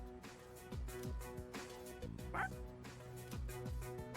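A dog barks in the video game Persona 3 Reload: a run of sharp, close bow-wow barks and yips with short whimpers between them, over game music.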